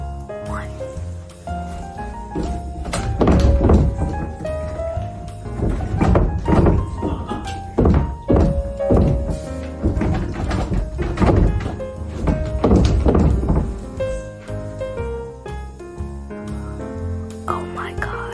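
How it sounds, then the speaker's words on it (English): Doors banged hard again and again inside a home bedroom, loud heavy thuds coming in irregular bursts for the whole stretch, with some rattling between hits. "I'm going to be getting those doors, and I'm going to be banging them to get people's reaction"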